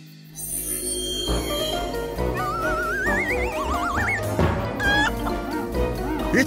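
A flock of cartoon chickens on a farm clucks and squawks busily, with warbling, wavering cries layered over one another, loud and continuous with no speech.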